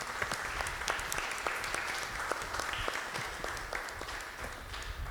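A church congregation applauds the deacons during a weekday Mass, with steady, moderately distant clapping that fills the hall and does not let up.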